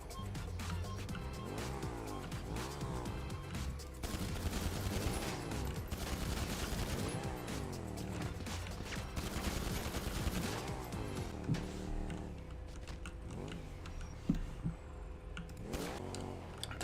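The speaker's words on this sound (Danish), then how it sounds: "Jeg står simpelthen og skyder folk deroppe." Gunfire from the FiveM multiplayer mod of GTA V rings out in dense, continuous bursts, heavy automatic fire mixed with engine noise and passing cars, loud and sustained throughout.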